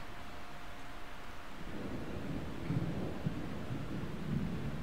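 A stormy day in The Sims 4 in Strangerville brings steady rain and low rolling thunder that swells midway through, with no voices.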